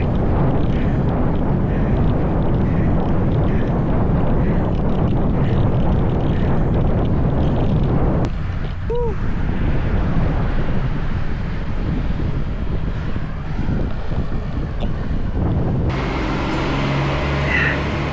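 Loud, continuous strong headwind buffeting the microphone while cycling, a heavy rushing roar, with a short faint tone partway through and a brief shift near the end.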